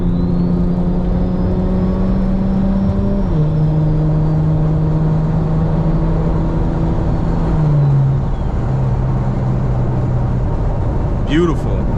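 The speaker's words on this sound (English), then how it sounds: "I don't know if y'all can hear like the turbo spooling and whatnot." Big-turbo BMW 335i with a 3.5-inch exhaust, heard from inside while driving: a steady loud engine drone shifts pitch through gear changes, with a faint rising turbo whistle over it and talk from the cabin.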